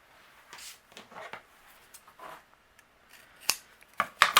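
Scissors snipping a decorative paper strip in half for a holiday tag, a few soft cuts followed by sharper close snips toward the end.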